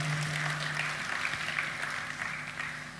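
A congregation claps together during an Indonesian church worship service, a steady wash of applause filling the hall alongside a low, even hum.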